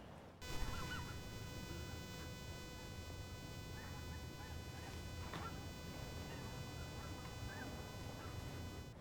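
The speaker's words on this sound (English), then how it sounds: "The geese are flying" Geese honk as they fly overhead above snowy off-grid land on a sunny, thawing day; scattered calls ring out faintly over a steady outdoor hum.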